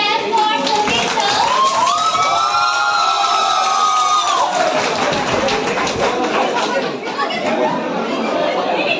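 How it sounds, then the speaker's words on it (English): An audience claps for a teacher at a 2024 Teacher's Day celebration, a steady wash of hands that runs the whole time under loud crowd chatter and a raised voice. "Everyone, please clap for Shobhit sir."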